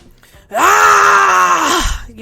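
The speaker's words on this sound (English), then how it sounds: "I was getting into a screaming meditation session" A woman screams at the top of her lungs during a meditation session: one sustained, loud, wavering wail lasting about a second and a half before trailing off, alone and close.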